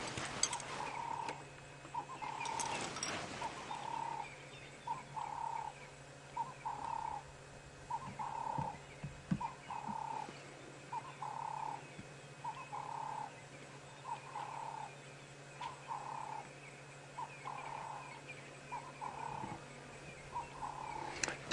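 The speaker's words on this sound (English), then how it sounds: "It is a Cape turtle dove" A Cape turtle dove coos in a steady repeating phrase, soft rhythmic hoots recurring every second or so over a quiet outdoor background with a faint hum.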